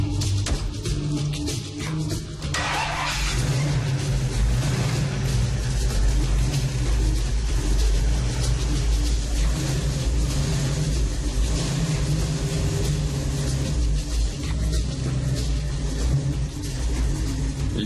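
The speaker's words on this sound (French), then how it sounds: "Les 600 chevaux du moteur grondent au premier quart de tour. C'est ça, le vrai son d'un vrai hot rod." A 600-horsepower hot rod engine fires up and roars, a loud, continuous low rumble with revving surges held steadily throughout, close by and without talk.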